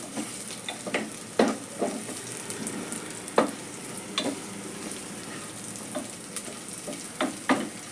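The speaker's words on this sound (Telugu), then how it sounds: "ఆనియన్స్ కూడా చక్కగా ఫ్రై అయిపోయాయండి." Onions fry steadily in a pan, a continuous hiss with occasional sharper clicks and spatters as they are stirred, close and moderately loud with no talking.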